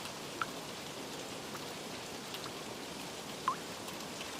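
Steady rain falls with a soft, even hiss, a couple of louder drips standing out; no voices.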